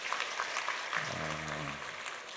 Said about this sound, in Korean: 우리 하나님께 한번 영광의 박수 올려드리겠습니다